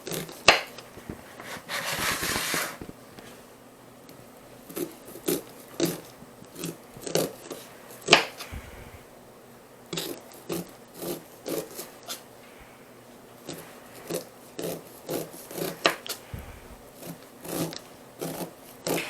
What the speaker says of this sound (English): then we just go cut it off the cob here